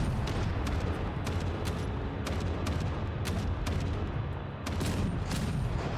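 Turret gunfire in the Space Engineers video game, a dense, continuous barrage of booming shots with sharp cracks repeating irregularly throughout, loud and close with no talking.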